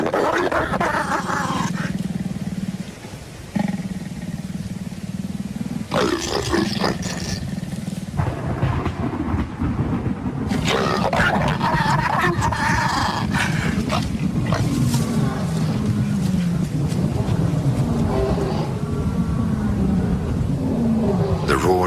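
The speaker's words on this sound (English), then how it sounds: "The roars of lions disrupt the intimacy of the pair." Lions roar in the evening in the wild, deep rumbling calls that rise and fall over a long stretch, fairly close and loud against a steady background of other animal noise.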